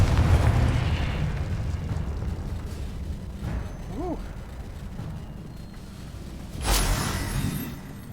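A Confringo fire spell detonates in the Hogwarts Legacy video game, a sharp burst near the end rising over a steady rumble of game ambience, with a smaller whooshing effect midway.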